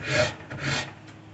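A rasp files a wooden limb during limb profiling, two pushing strokes giving a dry, coarse rasping scrape, close and fairly quiet, with a pause between them.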